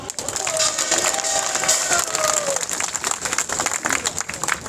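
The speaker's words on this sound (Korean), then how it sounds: "그분들에 대해서 큰 박수 한번 해주시기 바랍니다" Dense applause rises from a crowd at a Marine Corps veterans' rally honoring Korean War Marines, steady clapping with some cheering and voices mixed in.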